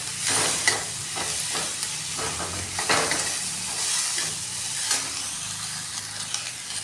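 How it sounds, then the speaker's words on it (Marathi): Mixed vegetables and peas for pulao are stirred in a hot pan, with a steady frying hiss and repeated scraping strokes, fairly close and continuous. "नंतर वटाणे पण टाकून घेऊन मी हे चांगलं मिक्स करून घेणार आहे."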